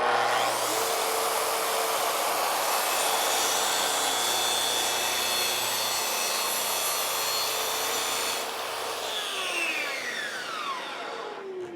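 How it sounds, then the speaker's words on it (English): A Makita track saw rips through plywood with a loud, steady high-pitched whine that holds for about eight seconds, then drops to a falling spin-down as the blade exits the cut and winds down. "let's do a little cut test through some plywood and through some melamine"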